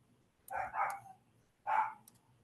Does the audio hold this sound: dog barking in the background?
yes